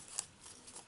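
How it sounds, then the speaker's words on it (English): A craft knife slices through a paper treat bag topper along a ruler, giving a single short, faint scrape close by in a quiet room. "I'm going to bring back my ruler and my craft knife. And I'm going to give this a cut."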